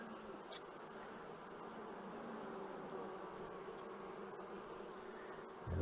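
A queenless honeybee colony in an open hive, a constant close buzzing hum with a high whine over it, steady and fairly quiet throughout.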